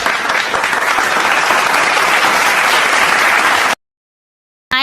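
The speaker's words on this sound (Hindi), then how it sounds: "इसके लिए जोरदार ताली बजाओ।" Loud, dense clapping from a village audience fills most of the clip, then stops abruptly into silence before a short sound returns at the end.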